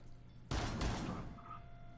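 A pistol fired in the tactical shooter Rainbow Six Siege: one loud, close blast or a quick double shot that decays over about a second against faint background hum.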